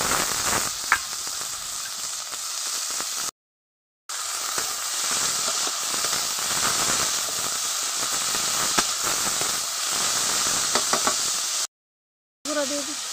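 Potatoes frying in oil with onions hiss and sizzle loudly and steadily up close, with small crackles and pops scattered through and two brief breaks of silence.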